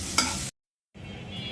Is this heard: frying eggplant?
yes